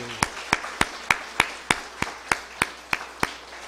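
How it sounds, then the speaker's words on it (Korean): A congregation claps in slow unison during a church worship service, about a dozen sharp, evenly spaced claps ringing out at a steady beat with no talk over them. "오늘 박수하겠습니다"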